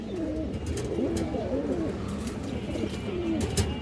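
Pigeons coo in a steady, overlapping series of soft warbling calls, a black-necked pair kept close by, with a continuous low murmur of cooing throughout.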